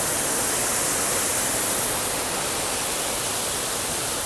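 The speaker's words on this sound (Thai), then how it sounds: "พึ่งมีน้ำตก พระลานทองครับน้ำตกพระลานทอง" Phlan Thong waterfall near Chum Phae in Khon Kaen, Thailand, gives off a loud, constant broadband rush of falling water that fills the whole stretch without any break.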